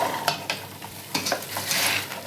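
Chickpeas tipped into a sizzling tomato and spice sauce with curry leaves for aloo chole, loud frying crackle with scraping stirs and clinks of a spoon against the pan.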